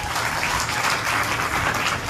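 Sustained applause from a large audience at a Jain Paryushan evening sermon, dense and even throughout with no speech over it.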